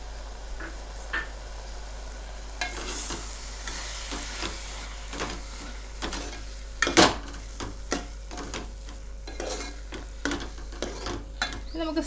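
Crushed onion and curry leaves go into a hot pan, crackling and sizzling steadily, with a few sharp pops and clinks of a stirring spoon.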